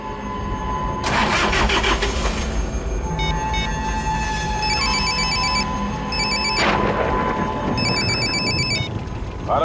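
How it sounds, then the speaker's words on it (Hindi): A phone rings unanswered in repeated electronic bursts, heard over loud engine and traffic noise that swells at the start and near the middle. "रमेश फोन क्यों नहीं उठा रहा?"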